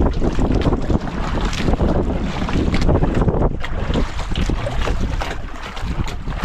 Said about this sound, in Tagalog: So lumakas yung amihan.